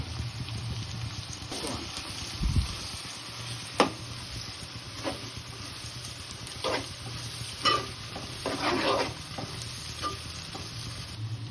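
Cluster bean curry fries with ginger-garlic paste and turmeric in a pan, giving a continuous close sizzle broken by several sharp scrapes and clinks of a spoon stirring against the metal.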